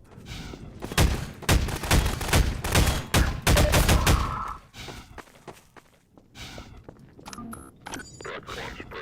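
A weapon firing in Half-Life 2, a loud run of rapid shots through the first four seconds, then quieter clicks, handling sounds and scattered noises.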